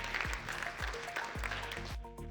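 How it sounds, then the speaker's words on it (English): Audience applause at a summit, a faint, steady wash of clapping from a crowd, heard at a distance with low thumps and hum mixed in. "A round of applause to yourselves,"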